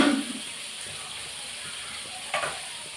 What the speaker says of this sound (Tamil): தக்காளி வெங்காயம் எல்லாம் நல்லா வதங்கிட்டோம்